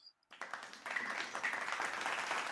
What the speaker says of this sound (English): I like how y'all got the applause.